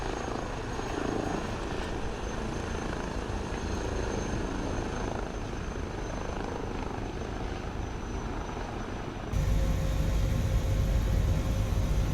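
An H160 helicopter taking off in Microsoft Flight Simulator 2020, a steady whirring rotor and turbine drone with a thin high whine, jumping abruptly to a louder, deeper rumble near the end, no talk.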